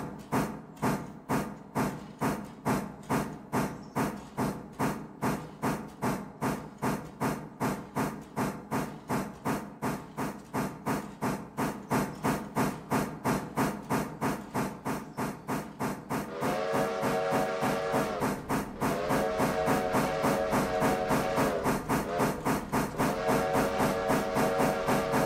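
Steam locomotive in the Railroader game chuffing hard, rapid steady exhaust beats driving on, joined later by a sustained multi-tone steam whistle blowing in long blasts over the chuffing.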